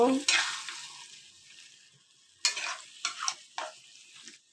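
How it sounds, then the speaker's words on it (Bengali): Broiler chicken curry is stirred in a pot after water is added, giving bursts of wet sizzling and scraping separated by quiet gaps, close and fairly loud. "গামলাটা ধুয়ে একটু জল দিয়ে আর একটু নেড়ে চেড়ে দিব।"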